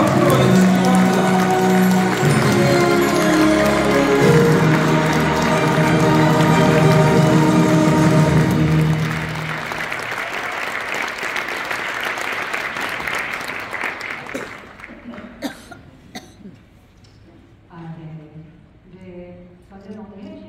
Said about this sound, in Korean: 힘찬 박수로 해주시기 바랍니다.